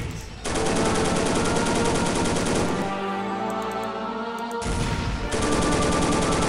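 Sustained gunfire in Soldiers: Heroes of World War 2, rapid machine-gun bursts loud and close, firing almost continuously with a brief lull before resuming.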